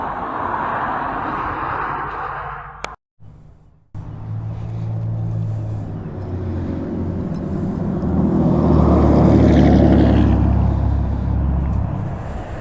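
A 2020 Triumph Bobber Black motorcycle pulls away on the road, its engine note rising under steady wind rush after a brief cut, growing louder and deeper as it accelerates, close and continuous with no talk.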